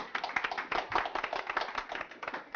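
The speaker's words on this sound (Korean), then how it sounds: "박수 부탁드리겠습니다" An audience claps for a guest introduced at a live Korean talk show, a moderate cluster of hands with distinct, uneven slaps rising and falling, fairly close and without speech.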